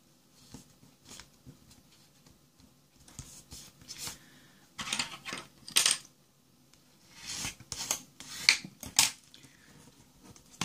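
Paper card stock being folded along its second crease for a diamond fold scrapbook card: close, crisp crinkles and sharp tapping clicks in irregular bursts, with no voices.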